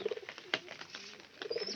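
White pigeons coo softly in a few short, low calls, one burst early and another near the end, with light rustling and a faint wing flap between them at a quiet distance.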